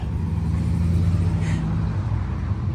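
A custom Oldsmobile drives past at an evening car show, its deep, steady engine rumble holding close and loud throughout with no talk over it.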